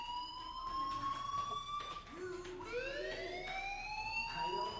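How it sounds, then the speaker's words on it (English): School fire alarm in the video game Life is Strange, a continuous electronic siren whose pitch sweeps up and down in long repeated waves, steady and fairly faint with no voices over it. "do you hear that fire alarm?"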